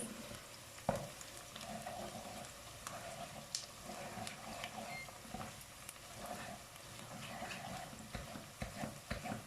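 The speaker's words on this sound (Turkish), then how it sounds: "Salçamızın da kokusu çıkana kadar iyice güzel bir şekilde kavuruyoruz." A mix of pepper and tomato paste sizzles steadily in a pan while being sautéed, with a continuous crackling fry and occasional scraping stirs up close.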